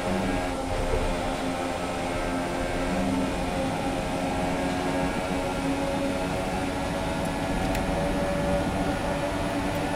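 Formula 1 race car engines in F1 2017 on the Belgian Grand Prix circuit, a dense, steady high-pitched engine whine from several cars running close together, loud and continuous throughout.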